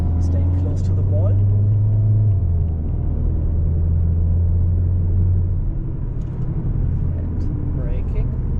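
A Golf 7.5 GTI accelerating on the Nürburgring Nordschleife, a loud steady engine drone rising in pitch with road rumble, heard from inside the car while someone talks over it.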